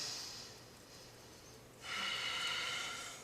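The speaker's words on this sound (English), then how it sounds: "Deep breath." A person takes a slow deep breath, a soft airy inhale followed by a stronger breathy exhale, close and quiet with nothing else heard.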